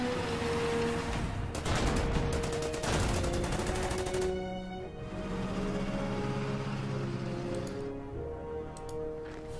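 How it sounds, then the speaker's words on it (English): Gunfire aimed at a BA-10 armoured car in the Order of Battle war game: bursts of shots and machine-gun rattle over a steady game backdrop, loudest in the first few seconds, then tapering into lighter ticking and background tones. "take a shot at the BA-10"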